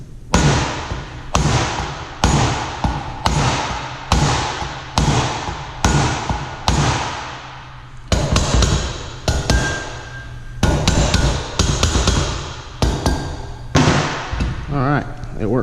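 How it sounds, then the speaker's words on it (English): Repeated heavy hammer blows strike the cast-iron flywheel of a Kohler Courage XT 7 engine during disassembly, loud close thuds in a steady rhythm, about a dozen in all, with a brief pause partway through. "I'm going to strike a blow just off center of the center, and you can see it's still pretty tight."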